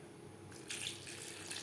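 Water poured into a pan of potato and pointed gourd curry: a steady splashing pour starts partway through and continues to the end, fairly close, with no talking.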